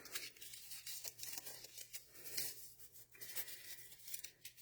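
Thick paper is torn by hand for a junk journal signature, coming as several short, quiet ripping bursts with small rustles and crinkles between them, close up and with no talk.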